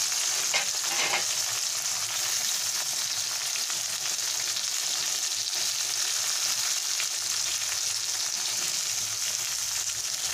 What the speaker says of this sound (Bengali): তো বেগুনগুলোকে আমি ভেজে নিচ্ছি।